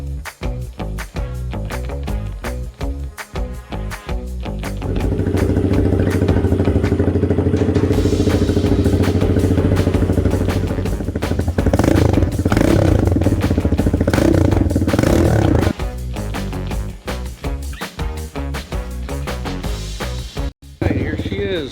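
A Tao Tao TBR7 scrambler motorcycle starts and runs loud and close, first a rough, clattering idle, then a steady sustained drone, then a choppier idle again with one brief cut near the end; a voice speaks at times.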